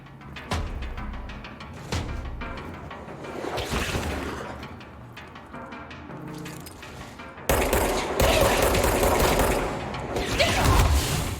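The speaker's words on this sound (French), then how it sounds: "mais qui c'est qui me tire dessus" Gunfire aimed at the player in the video game Control, with scattered sharp shots and clattering bursts that swell into a dense, loud volley in the second half, heard without speech.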